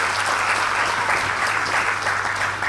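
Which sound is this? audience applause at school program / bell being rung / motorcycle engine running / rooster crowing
audience applause at school program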